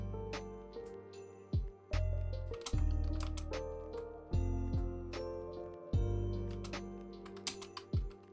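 Scattered sharp clicks of keys being pressed on a computer keyboard, a handful of quick taps standing out over steady tonal music in the background.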